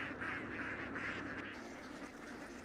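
Several ducks quack in a busy, overlapping chorus from a rice paddy field, moderately close and continuous throughout, with no voices over them.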